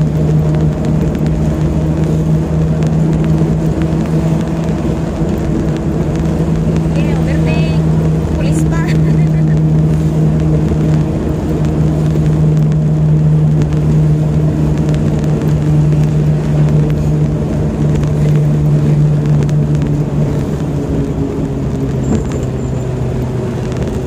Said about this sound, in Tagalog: Early in the morning, traffic.